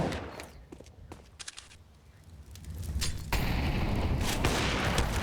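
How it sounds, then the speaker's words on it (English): Gunfire in a competitive video game match: scattered sharp shots and bursts, quieter at first, then a dense, loud stretch of rapid fire in the final seconds. "Mark finding another shot to take out Aglet."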